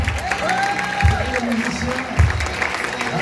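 A church congregation claps and cheers in a steady rolling wash of applause, with a worship leader's voice singing and speaking loudly over it.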